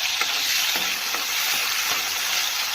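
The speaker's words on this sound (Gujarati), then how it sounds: "લસણ નાખ્યા બાદ હું નાખીશ ટમેટા. હવે હું આને હલાવી લઈશ." Tomatoes and garlic stirred in a frying pan for a tomato garlic pasta sauce give a close, continuous frying hiss with a few soft scraping strokes.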